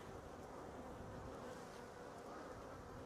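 Honey bees buzzing in a hive during an April inspection, a steady, dense hum that stays constant and fairly faint throughout, with no talk.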